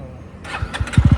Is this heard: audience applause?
no